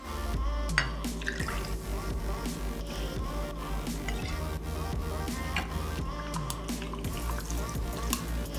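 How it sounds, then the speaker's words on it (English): Vodka is poured over ice while making a raspberry Moscow mule, giving a close, continuous trickle with light clinks of ice against the glass. "Next, we're gonna add ice. And 2 ounces of vodka."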